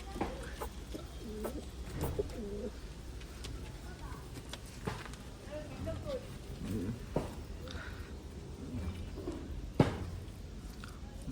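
Low pigeon coos from highflying pigeons of an old Khulna breed, soft and intermittent beneath steady background noise, with a brief sharp knock near the end.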